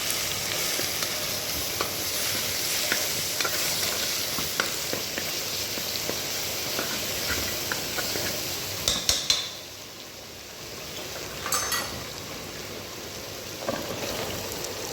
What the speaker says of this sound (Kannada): ನಂತರ ಶುಂಠಿ ಬೆಳ್ಳುಳ್ಳಿ ಪೇಸ್ಟ್ ಹಾಕೊಂಡು ಸ್ವಲ್ಪ ಫ್ರೈ ಮಾಡ್ಕೊಳ್ಳಿ